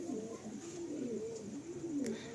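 Giribaz pigeons coo in a low, rolling rhythm, close and steady, with a few repeated throaty phrases in a loft and no talking.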